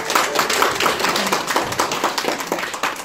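An audience at a Korean award ceremony claps for the founder of Cheonmun Group receiving a certificate of appreciation, a steady, close burst of many hands clapping at full volume with no speech over it.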